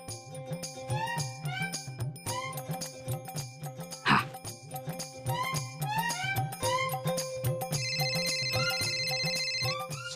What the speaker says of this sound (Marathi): हे तांबडे दादाला फोन कर